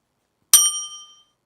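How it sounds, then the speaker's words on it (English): A single bright notification bell ding strikes once, sharp and clean, then rings out in a fading metallic shimmer that lasts about two thirds of a second, surrounded by silence. "you must also hit on the notification bell"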